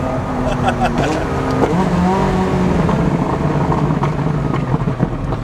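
A McLaren 570S revs hard on a race track while losing traction, a loud, steady engine roar with shifting pitch close by, with voices under it.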